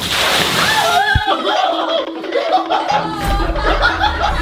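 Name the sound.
water being poured on someone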